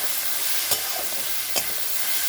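A spoon stirs chili powder into an onion, garlic and tomato masala frying in a pan, giving a steady close sizzle and hiss broken by two brief scraping strokes.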